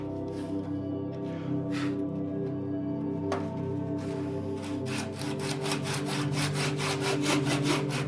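A hand saw cuts wood pieces to equal length for chess board inlays, first with scattered scrapes and then in a fast, even run of back-and-forth strokes, close and fairly quiet, with no voices.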